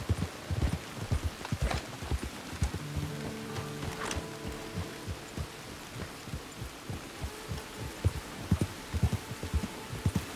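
Horse hooves clip-clop steadily in a Red Dead Redemption 2 online session, a rhythmic string of close, dull thuds over a low hum, continuing without a break as the rider heads toward camp.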